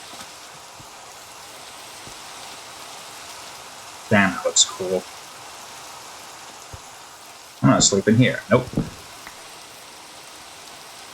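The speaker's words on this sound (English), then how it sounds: "We gotta deal with this annoying rain until night occurs." Steady hiss of rain falling in the video game Minecraft, a constant broadband patter filling the whole stretch while someone speaks briefly twice over it.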